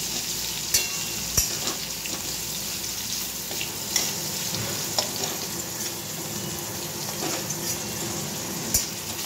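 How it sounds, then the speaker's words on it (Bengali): Thinly sliced potatoes fry in oil in a pan, a continuous close sizzle broken by occasional sharp clinks and scrapes of a utensil stirring, with no talking. "এবার এই আলুটা একটু ভেজে নেব।"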